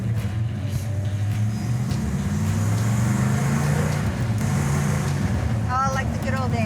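Car engine running steadily while driving, a continuous low rumble with a smooth, even drone from start to finish, and people talking over it inside the car.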